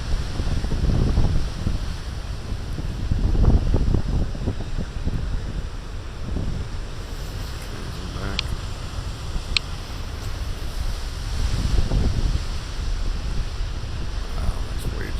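Ocean waves roll and break near Newport after winter storms, a broad rushing surf with repeated surges every few seconds under steady wind buffeting the microphone, no voices.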